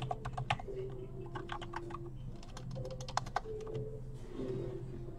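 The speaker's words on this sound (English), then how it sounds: "I'm going to write back to Roger." Rapid, uneven keystrokes on a computer keyboard as a reply is typed, coming in quick bursts with brief pauses, fairly close over a low steady hum.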